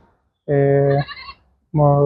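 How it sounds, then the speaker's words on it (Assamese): Goats bleating at a police station, with two loud, sustained harmonic bleats close by separated by a short pause and a fainter call between them. "ইয়াতে ছাগলী কেইটামান ধৰা হৈছে"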